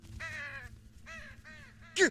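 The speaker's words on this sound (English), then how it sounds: "Again, the damn crows!" Crows in the Saint Kotar video game give three drawn-out, hoarse caws in a row, fairly loud and clear against a quiet background, ending with a short sharp sound.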